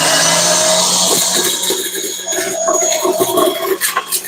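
Electric juicing machine running as beets cut into quarters are fed through, a steady close mechanical whir with grinding and rattling pulses throughout.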